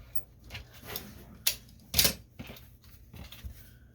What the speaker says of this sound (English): So you want to go ahead and cut 2 of those.